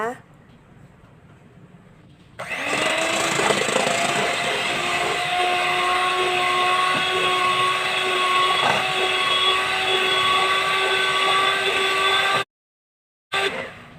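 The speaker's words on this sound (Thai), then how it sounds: "นำไข่ไก่มาตี นะคะ" An electric mixer beating eggs whirs steadily at a constant pitch for about ten seconds, starting abruptly and cutting off, with a quieter hum before it.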